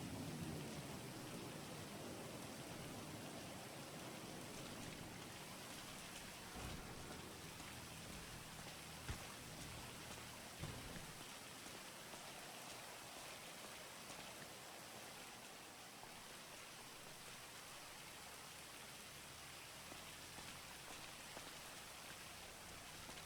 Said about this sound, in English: I'm gonna get up out of this rain, Diego.